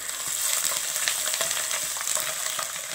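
About twenty garlic cloves, halved, crackle and sizzle in hot oil for a sambar-style tamarind curry, a dense bright continuous frying hiss close up, with no talking.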